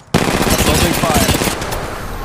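Automatic weapon fire bursts in abruptly in Apex Legends Mobile mid-fight, a loud, close, rapid rattle of shots that continues unbroken for about two seconds, with other game sounds mixed underneath.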